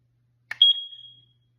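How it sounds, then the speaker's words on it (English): A Kidde C3010 carbon monoxide alarm gives a single sharp, high-pitched electronic beep during a test, preceded by a brief click and trailing off in a quiet room. "Okay, it's beeping."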